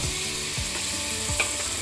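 Ground spices—salt, turmeric, cumin and dry chilli powder—sizzle with a splash of water in a kadai for chicken keema, a soft steady frying hiss with a few rhythmic scraping stirs.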